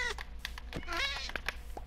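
A cat in Minecraft gives a short meow amid quick clicky taps and small game noises, all fairly faint and with no talking.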